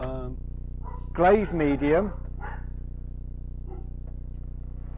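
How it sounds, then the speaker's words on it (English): A few dog barks sound from somewhere in the room behind someone talking. A short yapping burst stands out in the middle, with a steady low hum running underneath. "pardon the dogs if you can hear them in the background"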